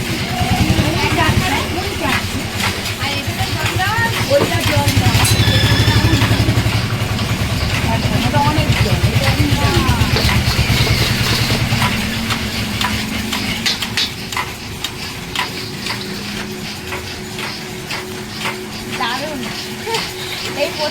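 A machine roasting puffed rice (muri) rumbles steadily with a busy, crackling, stirring texture, loud and continuous, while people, including children, talk over it.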